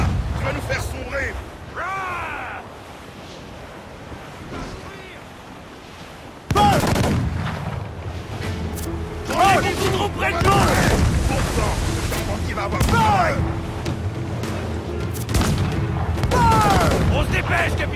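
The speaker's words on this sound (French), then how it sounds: "Canon paré, capitaine." Booming ship cannon shots and scattered gunfire in an Assassin's Creed IV Black Flag battle, with a sudden loud burst partway through and steady combat noise underneath voices.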